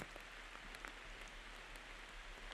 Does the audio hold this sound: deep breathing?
no